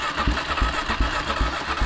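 An ATV or dirt bike engine catching on choke, rough rapid firing pulses in an uneven rhythm, loud and close with no voices.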